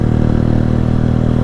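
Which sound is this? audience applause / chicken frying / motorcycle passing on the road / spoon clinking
motorcycle passing on the road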